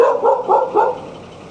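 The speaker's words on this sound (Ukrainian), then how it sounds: "Нікого ніколи не кусає, хоча лає так свирепо" An old dog barks fiercely in a quick run of four loud, close, gruff barks, then falls quiet.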